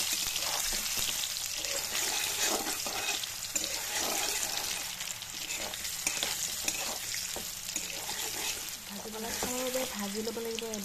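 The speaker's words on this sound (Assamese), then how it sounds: "এতিয়া মই এইকেইটা তেলত ফ্ৰাই কৰি ল'মগৈ" Kofta balls sizzle and crackle in hot oil with steady frying hiss throughout, occasional stirring clinks, and a voice speaking briefly near the end.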